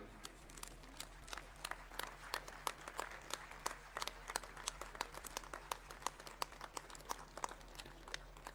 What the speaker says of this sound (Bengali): হাততালিটা আরেকটু জোরে হওয়া উচিত